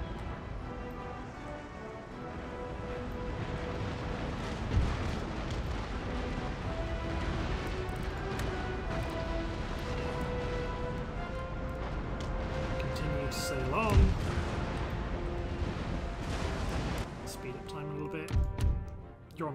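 Naval cannon fire in the video game Empire Total War: distant booming shots and rumbling impacts sit under a constant battle wash and game music, with someone talking over them throughout.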